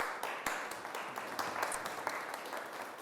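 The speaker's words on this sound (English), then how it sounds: "please give him a warm round of applause" Audience applause greets a speaker at a talk on effective websites, a fairly faint but continuous patter of many hands clapping with a few sharper individual claps standing out.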